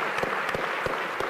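A town hall audience gives brief applause, a dense patter of many hands clapping, moderately loud and steady.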